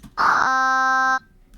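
A synthesized singing voice in OpenUtau holds a note near C4 that opens with a rough, gritty burst imitating vocal fry, then settles into a steady buzzy tone for about a second before cutting off.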